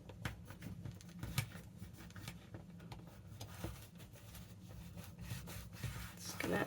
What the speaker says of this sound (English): Just going to give that a really good burnish down.